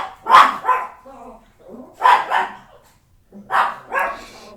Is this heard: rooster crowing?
no